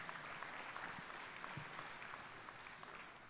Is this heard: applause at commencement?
yes